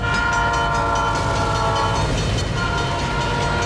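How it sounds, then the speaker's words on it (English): In a scene from the film My Cousin Vinny, a train's loud, sustained whistle blares up close over the heavy rumble and rattle of the passing train. "the train's gonna come careening through and blow the whistle."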